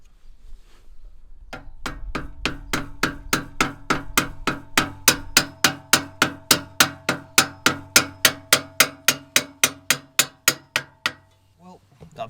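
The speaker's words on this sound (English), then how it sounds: "You just have to whack them from the back and they should come off pretty easily" Carbon exhaust tips being knocked off from behind with a piece of timber: a steady run of about twenty-five sharp, evenly spaced wooden thwacks ringing on metal, loud and close, with no talking.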